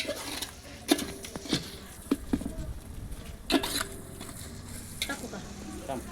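Masala spices roasting in a pan, with a soft continuous sizzle and intermittent scraping stirs and light clinks against the pan throughout, at moderate distance.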